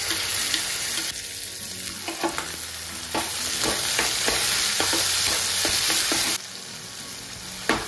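Onions and tomatoes fry for poha in a pan, a steady loud sizzle broken by repeated scraping stirs of a spoon against the pan, with no talking.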